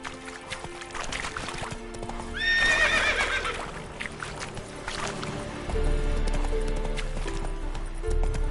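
Roach, the horse in The Witcher 3, gallops with a steady rhythm of clip-clopping hooves. A loud, bright whinny breaks out partway through, over a low game-world rumble.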